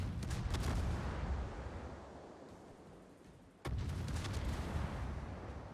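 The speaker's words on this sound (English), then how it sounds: "Battleship shells from the Bungo coming in." Incoming battleship shells from a Bungo in World of Warships, a heavy, rumbling barrage of booms that fades away and then hits again with a sudden loud blast partway through, with no voices.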